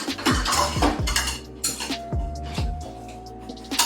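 Spoon and cup being grabbed from kitchenware while layering a vegetarian lasagna: a run of sharp, close clinks and clatters of metal and dishes, irregular and fairly loud, with no talking.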